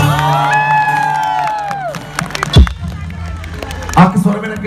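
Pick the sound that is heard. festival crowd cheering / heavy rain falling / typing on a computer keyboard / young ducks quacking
festival crowd cheering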